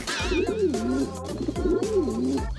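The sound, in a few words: pigeon cooing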